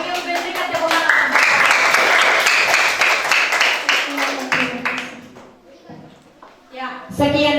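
Classroom applause breaks out: a dense burst of many hands clapping for several seconds, fading out, then a few scattered claps returning at the end, with a teacher's voice speaking around it.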